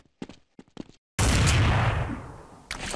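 Gunfire on a game server: after a few scattered short clicks and taps comes a sudden loud, sustained burst of gunshots and blasts that slowly fades, then another loud burst near the end.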